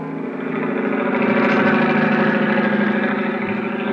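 A helicopter engine sound effect in a radio drama: a steady, throbbing mechanical drone with a pulsing low beat, loud and continuous throughout with no voices.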